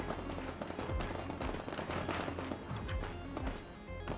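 Gunfire in the Get Even video game comes as rapid, dense cracks and thumps that run continuously at close range, with no pause.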